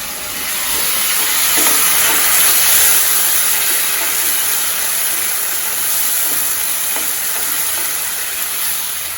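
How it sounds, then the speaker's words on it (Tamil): Green chillies sautéing in a pan over lowered heat while making tomato kuzhambu, giving a steady, close, fairly loud frying sizzle and hiss with faint stirring scrapes, with no talking. "இந்த மிளகாயோட பச்சை வாசனை போகிற அளவுக்கு வதக்கணும்"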